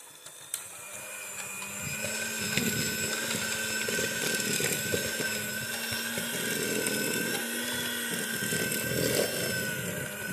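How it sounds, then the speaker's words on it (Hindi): A blender's steady mechanical whir runs continuously, a motor droning at near-constant pitch with a slight rise partway through, loud and close, while mixing wall filler clay. "ये मैंने अपना ब्लेंडर ऑन कर लिया।"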